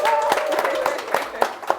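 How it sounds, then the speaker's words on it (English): A handful of people clap in separate, distinct claps during a leadership talk show, with a voice heard briefly at the start. "A round of applause."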